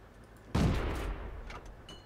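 A tank cannon shot in the online tank battle game World of Tanks, one loud booming blast that hits abruptly and then rumbles and trails off over a couple of seconds, with no talk over it.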